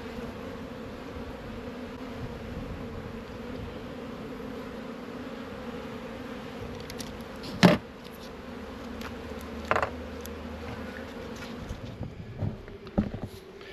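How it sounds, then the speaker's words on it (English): Honeybees humming steadily around an open hive outdoors, a continuous low drone with a few brief louder knocks and movements near the end. "The bees are busy."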